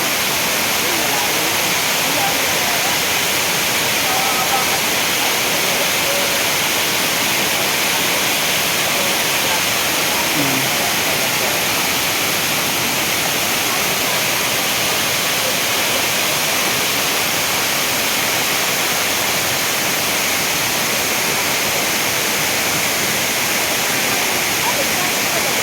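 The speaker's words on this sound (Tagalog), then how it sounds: "Eto mga kaibigan, nandito na ako sa may taas ng falls." Enkanto Falls pours with a loud, unbroken roar of rushing water, a dense steady wash heard up close from the top of the falls.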